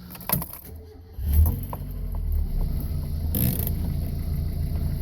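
A 1990 Mazda Miata with an early NA engine is started after a rattle of keys: a short cranking burst, then the engine catches and settles into a steady, even idle nearby, with a brief rise midway.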